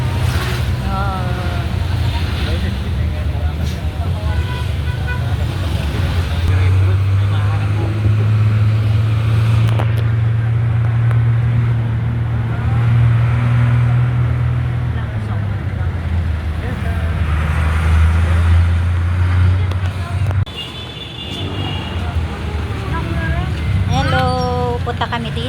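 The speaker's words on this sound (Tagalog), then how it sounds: "Nakasakay kami ng bus." Steady engine drone and road rumble inside a moving bus in the Philippines, with a low hum shifting pitch as it changes speed, nearby voices talking over it throughout.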